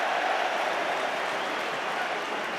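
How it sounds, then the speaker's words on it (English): Football crowd at a League One match between Leeds and Norwich City applauds a substituted player, a steady, distant wash of clapping from the stands that fades slightly toward the end. "whose debut ends with applause ringing in his ears"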